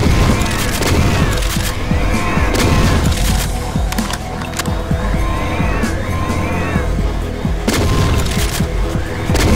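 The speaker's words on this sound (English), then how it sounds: "pump shotgun upgrade, the dragon breath shells" A pump shotgun loaded with dragon breath shells fires again and again in Doom with the Project Brutality mod, heavy booming blasts with metallic pump racking between them, loud and close amid constant chaotic game noise.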